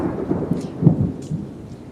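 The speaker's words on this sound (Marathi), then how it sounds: "तर गाजता आहे का बघा" Thunder rumbling during heavy monsoon rain in Konkan, deep low rolls and bursts over a brief stretch under dark storm skies, close and fairly loud.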